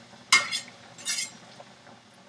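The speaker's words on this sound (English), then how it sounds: "Stir that up" Butter, onion and garlic stirred in a pan with a utensil, giving a few close clinks and scrapes against the metal over a faint sizzle, no talking.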